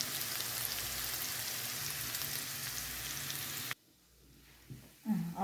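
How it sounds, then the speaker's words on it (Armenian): Food fries in a pan with a dense, even hiss like light rain that runs steadily, then cuts off abruptly, followed by quiet handling noises and a brief clunk near the end; no speech. "մի փոքր տապակվի, արդեն բավական է"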